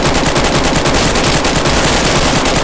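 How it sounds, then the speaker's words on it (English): Loud, close, sustained automatic gunfire in the video game DayZ, rounds rattling off in a fast, steady rhythm that saturates the whole stretch. "Oh, we're all shooting."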